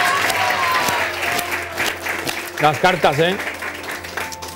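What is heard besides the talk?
audience applause on a TV show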